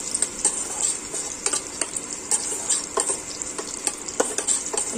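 Curry leaves crackling and frying in hot oil in a pan on an induction stove, a steady dense sizzle with soft stirring scrapes and occasional louder pops, close and alone.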